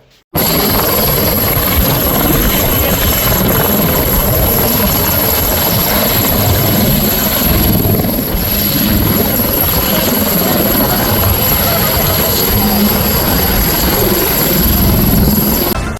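Army rescue helicopter flying over a river during the rescue of twelve stranded fishermen, its rotor and engine a loud, continuous, close roar that fills the whole stretch without a break.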